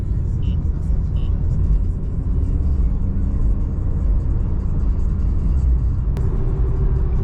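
An Infiniti Q50 drives across town, its engine and road noise making a steady, close rumble inside the cabin that continues without a break, ending with a brief faint tone.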